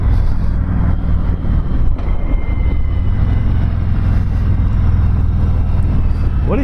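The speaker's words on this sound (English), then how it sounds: "What an easy riding bike." A 2019 Harley-Davidson Road Glide motorcycle cruising along, its steady low engine rumble mixed with constant wind rush across the microphone, continuous and fairly loud with no talk.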